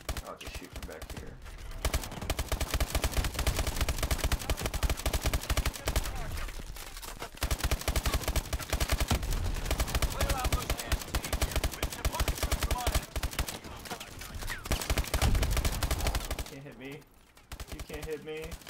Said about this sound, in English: I'll just shoot from back here.